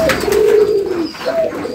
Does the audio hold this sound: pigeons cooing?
yes